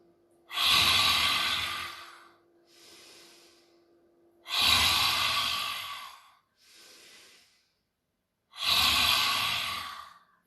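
Deep meditative breathing, three long loud exhales alternating with two softer, quieter inhales in a slow, even rhythm, close and alone.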